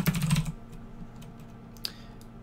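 A quick burst of computer keyboard keystrokes while coding in Java, followed by a few scattered, quieter single taps in a quiet room.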